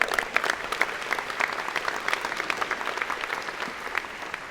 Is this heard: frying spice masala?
no